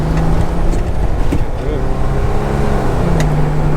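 A Nissan GQ Patrol 4x4 fitted with a home-built power-shift transmission drives with a loud, continuous engine roar and a rising mechanical whine, close up and with no talk.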